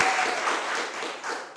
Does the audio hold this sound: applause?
yes